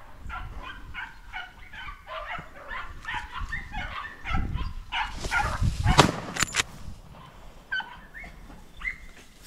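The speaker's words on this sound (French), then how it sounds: "Les chiens mènent fort" Hunting dogs give tongue during a driven boar and deer hunt in the Sologne countryside, a run of distant, overlapping barks and yelps with a few louder, sharper cracks partway through.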